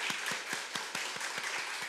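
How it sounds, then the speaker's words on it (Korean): A church congregation claps in unison during a Sunday worship service, a steady rhythmic beat of roughly eight hand claps per second, moderately faint and evenly paced throughout with no talk. "우리 열심히 감당해 달라고 박수로 응원하겠습니다."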